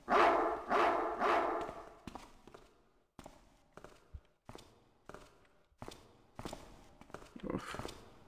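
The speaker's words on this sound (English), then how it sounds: "Oh, there's the dog." A dog barks in the Thief fan mission Raven Creek, a series of sharp, moderately loud barks spaced through the scene along with footstep-like thuds, with a brief sigh near the start and no clear talk.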